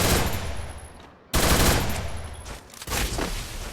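Rapid automatic gunfire from a shooter video game, loud and close, in dense bursts broken by a brief gap, with no talking.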